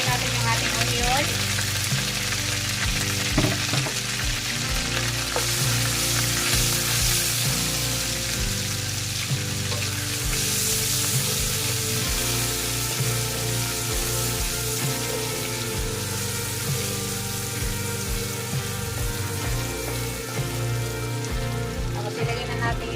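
Shrimp fry in a pan with butter and onion, giving a dense, steady sizzle and crackle that runs throughout at an even, fairly loud level.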